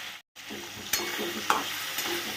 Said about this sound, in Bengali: তো যাই হোক, হালকা একটু ভাজা করে নিই।